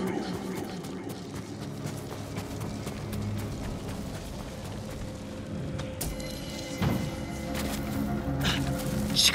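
Horse hoofbeats approaching in the video game Ghost of Tsushima, a rapid clip-clop of hooves growing nearer beneath game music and ambient noise, with speech heard over it.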